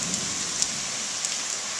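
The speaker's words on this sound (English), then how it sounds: "I'm showing you the rain right now, and it's raining really hard" Heavy rain pours down during a storm, a dense continuous hiss of drops striking surfaces close by, with a few slightly louder splats scattered through the steady downpour.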